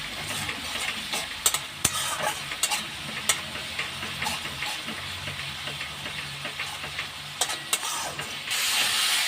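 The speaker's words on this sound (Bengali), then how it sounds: "মশলাটা আমি ভালো করে কষে নেব" Spice paste with salt is stir-fried in a pan for a fish jhuri, a close, steady sizzle punctuated by frequent rhythmic scrapes and clicks of the spoon against the pan, running alone with no voices.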